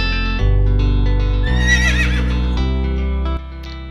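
A horse whinnies in a loud, high, wavering neigh that peaks midway through, set over steady bright music throughout, with no talking.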